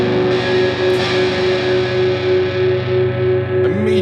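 A single distorted electric guitar major seventh chord rings out and sustains steadily, loud and close, with a slight pick noise near the end.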